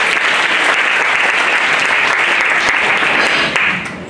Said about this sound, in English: Can you give just a mighty clap of praise for the Lord?